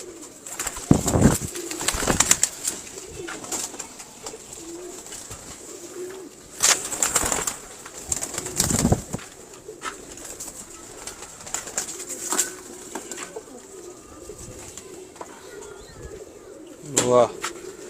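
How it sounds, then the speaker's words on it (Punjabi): Black pigeons coo softly in the background while wings flap in several loud bursts, with people talking at intervals throughout. "ਕਾਲੇ ਕਬੂਤਰ ਕਾਲੇ ਚੀਨੇ ਕਬੂਤਰ ਨੇ ਸਾਰੇ"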